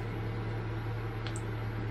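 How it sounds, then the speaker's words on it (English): Room heater running steadily in a cold room, a faint constant hum and hiss with no change throughout and no talking. "That noise you can hear in the background is my heater."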